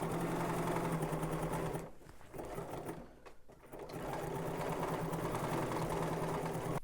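A sewing machine runs steadily while stitching a seam on a fall garment pocket, a close continuous mechanical whir that stops briefly twice, then resumes at an even pace.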